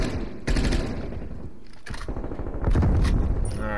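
Rapid bursts from a sentry gun in Call of Duty: Cold War multiplayer, loud stuttering automatic fire in several clustered volleys with brief gaps, mixed with other game gunfire nearby.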